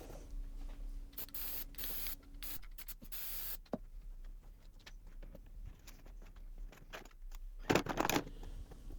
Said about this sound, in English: I'm going to spray the adhesive on the rest of the material.